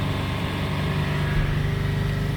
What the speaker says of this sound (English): I'm going to hold the revs back up again. 3000 RPM.